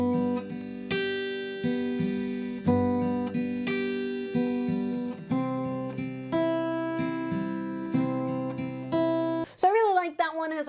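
Guitar played with a syncopated eighth-note fingerpicking pattern, plucked notes ringing over a repeating bass in an even, lilting rhythm, close and clear, ending in a brief bent, wavering tone.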